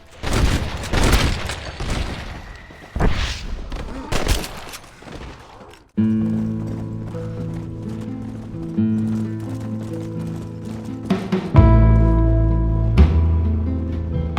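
Gunfire in the video game Red Dead Redemption: Undead Nightmare, a rapid volley of loud close shots and booms at first, then a calmer stretch of game music and ambience with a few scattered bursts, no voices.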